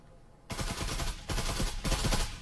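Bursts of gunfire from the VR tactical shooter Breachers crackle in three rapid volleys, loud and dense, with brief gaps between them.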